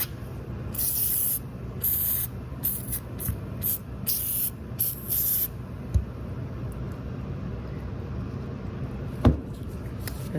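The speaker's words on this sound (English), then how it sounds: "So I'm just going to actually rinse the lock out." Water spray rinsing out the lock of an exterior door, coming in several loud hissing bursts of a few seconds each over steady background noise, followed by quieter ambience with a sharp knock near the end.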